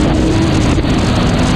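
A 993-generation Porsche 911 Turbo accelerates hard in a drag race, its engine a loud continuous roar with a strong steady drone and heavy wind buffeting on the microphone.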